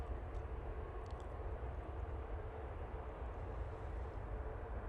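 An airplane lands at Manchester Airport, heard as a steady, fairly distant engine roar and rumble that holds throughout without speech.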